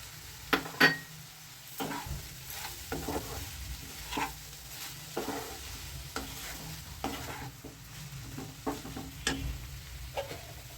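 Grated carrots cook in ghee for carrot halwa with a soft, low sizzle while a spatula stirs and knocks against the pan in a series of irregular taps and scrapes, with no talk.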